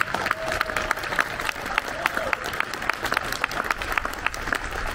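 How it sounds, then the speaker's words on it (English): Crowd applauding outdoors at a riverfront grand opening in Miamisburg, steady clapping from many hands, moderately near and sustained without a break. "Can we please give them a round of applause?"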